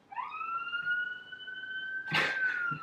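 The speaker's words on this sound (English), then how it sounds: "if you can hear the police sirens" A police siren wails steadily in a long, rising-then-holding tone, with a brief burst of street noise partway through.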